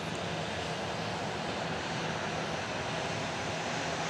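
A Boeing 737-700 airliner arriving at an airport gives a steady, broad engine roar that holds at an even level throughout, alone with no voices.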